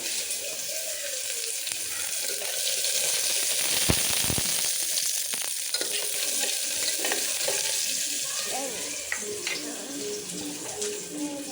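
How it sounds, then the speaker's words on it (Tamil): Onion and tomato sauté in a pan for a baby's lunch of drumstick-leaf dal, giving a steady hiss of frying with scraping stir noises throughout, fairly close and without talk. "ஆட் பண்ணி நல்லா வதக்கிக்கோங்க"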